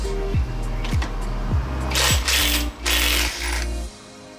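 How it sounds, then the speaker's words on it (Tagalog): A 22mm socket wrench works loose the pulley lock nut on a Honda Click V3 scooter's CVT, giving several close, repeated ratcheting clicks and metallic clanks with a steady mechanical rumble beneath. "Ang gamit natin na socket wrench mga boss is 22mm"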